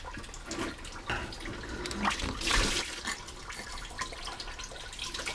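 Coolant from a BMW E46/E39 radiator pipe splashes and trickles onto the ground in a steady, faint stream with a few louder gushes.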